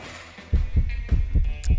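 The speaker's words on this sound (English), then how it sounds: "Oh, the heartbeat." A thumping heartbeat effect from the video game Monster Prom starts after a quiet moment, with strong, regularly paced double beats that sit low and loud over a faint hum.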